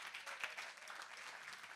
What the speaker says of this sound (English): Give him a good round of applause, guys.